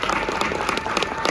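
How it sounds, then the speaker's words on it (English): A school panel audience in a high school setting gives a brief burst of dense, close applause, with no talk over it. "I think they need a round of applause."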